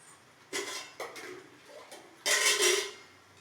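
Dishes and cutlery being washed: a few separate bursts of clattering plates and clinking utensils, close and fairly loud, with quiet gaps between them.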